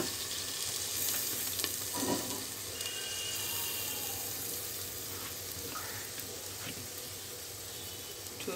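Eggplant frying in hot mustard oil, a dense continuous sizzle and crackle that stays steady throughout, with faint stirring clinks and no talk over it.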